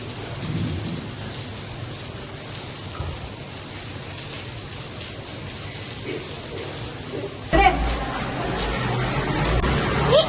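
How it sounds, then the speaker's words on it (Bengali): Heavy rain pours outside a window in Puri, a steady dense hiss that swells louder near the end with a low rumble, heard from indoors. "দর্শক বন্ধুদের বৃষ্টিটা দেখাবো"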